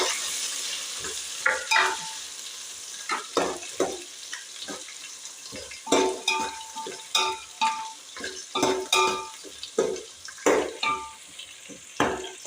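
Three finely chopped onions frying in a pan for chicken dum biryani: steady sizzling, interrupted repeatedly by scraping and stirring strokes, close and fairly loud.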